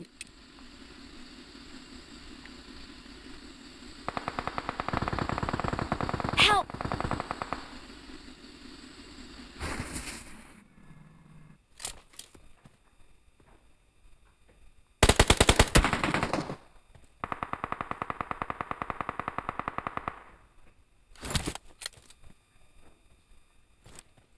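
Automatic rifle fire in PUBG Mobile comes in several loud bursts of rapid shots, each a few seconds long and separated by quieter gaps, with a vehicle engine droning underneath in places.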